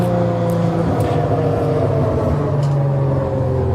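A drifting car's engine revs loudly and steadily, its pitch wavering slightly as the car holds a slide, with faint tire noise underneath and the sound staying close and constant throughout.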